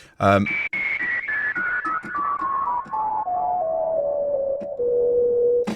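A self-oscillating synthesizer filter with keyboard tracking turned up and the LFO off produces a pure, sine-like whistling tone, played as a descending scale of held notes, loud and clean, with a brief low blip at the start.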